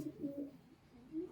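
Dobaz pigeons coo in soft, low, rolling murmurs, a few close throaty phrases rising and falling over a quiet background.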